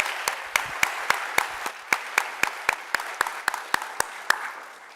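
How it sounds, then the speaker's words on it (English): An audience applauds judges and finalists at the 2024 Do Good Challenge Finals, with steady clapping that carries a few distinct, evenly spaced loud claps near the front before it slowly fades. "Let's give our judges and our finalists another round of applause."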